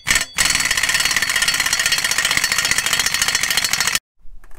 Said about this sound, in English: I have air tools, so I'm gonna use these air tools to speed up this process